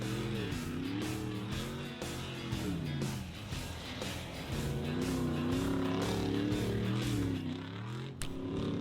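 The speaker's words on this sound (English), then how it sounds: "He knocked the muffler loose. Now it sounds like a Chev." A school bus engine with a loose muffler rumbles with a raspy, uneven exhaust, droning steadily nearby, its pitch rising and falling as it revs.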